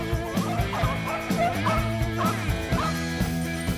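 A pack of hunting dogs on a Kentucky rabbit hunt bays and yips in repeated overlapping barks, close and loud, with some higher whining cries mixed into the chase.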